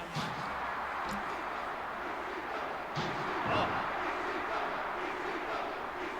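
Arena crowd noise from the ECW Hardcore Revolution wrestling game on PS1, a steady roaring wall of audience sound, loud and continuous, with a few thuds and swells during the match.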